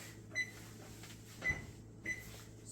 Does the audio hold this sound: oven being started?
yes